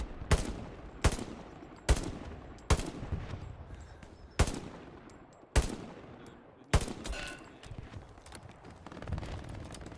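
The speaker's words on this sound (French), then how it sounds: "Au secours, aidez-moi, il me tire dessus." Gunfire in a video game: eight sharp, loud single shots spaced roughly a second apart, each ringing out with a decaying tail, with no talk over them.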